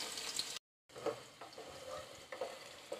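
Sliced onions frying in half a cup of hot oil in a pot, a close, quiet, steady sizzle with light stirring scrapes, broken by a brief silent gap near the start.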